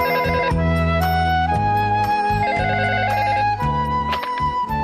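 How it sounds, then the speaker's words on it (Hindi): A telephone rings in a Hindi-dubbed Shinchan cartoon, giving loud, repeating electronic ringtone tones in a fast warbling pattern that carries on without a break. "शिनचैन, मसाओ का फोन है, जल्दी आओ"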